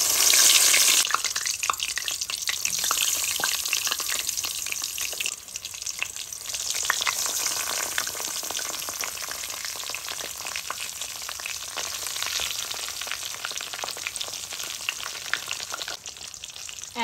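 Eggplant slices sizzle and spatter in hot oil over a high flame, a steady dense crackle of frying that runs throughout with occasional stirring and flipping noises, close and fairly loud, with no talking.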